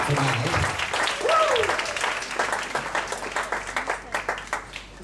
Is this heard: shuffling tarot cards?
no